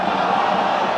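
A football crowd in a Scottish league match roars in a dense, loud, sustained swell as fans appeal for a handball, with no break in the noise.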